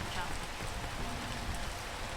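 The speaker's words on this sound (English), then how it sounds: "The rain is too much." Heavy rain in the video game PEAK, a dense, steady hiss of downpour filling the whole clip at an even level with no distinct individual drops.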